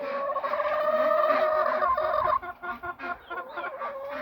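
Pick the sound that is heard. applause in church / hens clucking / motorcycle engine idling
hens clucking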